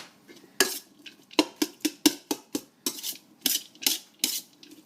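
Cranberry stuffing mixed with eggs in a bowl for a stuffed turkey leg roast, heard as a brisk, irregular run of about fifteen scraping, clinking spoon strokes against the bowl, close and clear with no talking.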